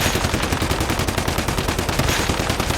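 Rapid automatic gunfire from a weapon in the Once Human video game, a dense continuous burst of shots that stays loud and close for the whole stretch with no talking.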